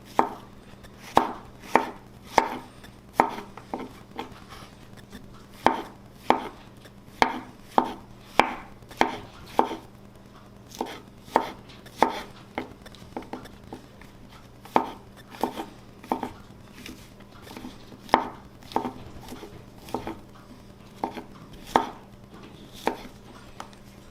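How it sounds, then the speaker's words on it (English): A knife slices portobello mushrooms on a cutting board in a long run of crisp, evenly paced chops, some close together, each one a distinct thud heard alone with no talking. "now I'm going to slice my mushrooms. These are portobello mushrooms."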